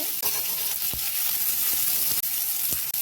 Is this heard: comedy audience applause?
no